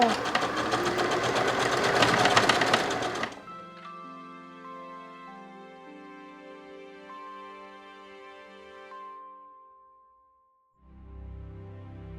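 A domestic sewing machine attaches sleeves to a handmade garment, running in a loud, fast, continuous whir for about three seconds before stopping and giving way to soft sustained melodic tones.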